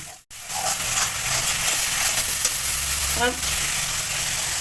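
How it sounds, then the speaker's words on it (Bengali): Ground coriander and cumin spices fry with a splash of water for paneer masala, a steady close sizzle after a brief gap at the start, with a short clink partway through. "এবার দিয়ে দেবো একটু জল। মশলাটা আমি কষে নেবো।"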